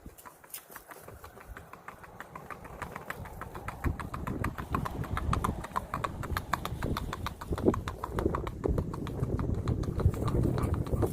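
A gaited tobiano gelding moves along with quick, even clip-clopping hooves that grow closer and louder, a steady rapid rhythm outdoors.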